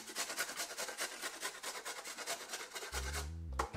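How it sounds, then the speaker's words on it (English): Fresh ginger root rasped against a grater for a healthy salad, a steady rapid scraping rhythm close up that runs for a few seconds, then a deeper, louder low sound cuts in near the end. "you want to just grate a little piece of a ginger"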